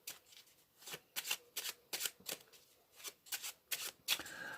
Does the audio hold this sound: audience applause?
no